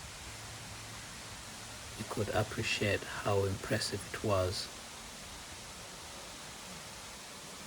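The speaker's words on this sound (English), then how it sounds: "The second waterfall was magnificent, even with the reduced volumes." Sipi Falls in Kapchorwa, Eastern Uganda, a broad steady hiss of falling water at reduced volume, constant throughout, with someone narrating over it partway.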